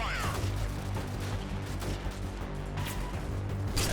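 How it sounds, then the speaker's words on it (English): Dense bursts of enemy gunfire in the S5 Freeman Guerrilla Warfare game, rapid overlapping shots over a constant low game hum, fairly quiet overall. "I can't actually see where the enemy is shooting us from at the moment."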